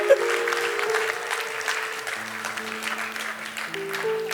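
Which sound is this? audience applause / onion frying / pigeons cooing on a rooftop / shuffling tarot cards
audience applause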